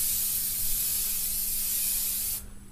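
Marrutt Printguard protective coating sprayed from an aerosol across a gloss or satin photo print, a steady close hiss lasting about two and a half seconds before cutting off abruptly.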